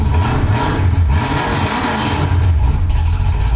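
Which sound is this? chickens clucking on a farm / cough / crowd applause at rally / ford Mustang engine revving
ford Mustang engine revving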